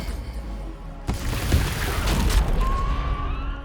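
A magic missile spell fires in Baldur's Gate 3, with a sharp crack followed by a cluster of whooshing, booming impacts and a rising magical shimmer near the end.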